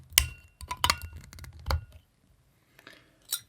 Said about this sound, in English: my completely badass Millennium Falcon bottle opener with Newport Brewing's 2019 Rogue Santa's Private Reserve.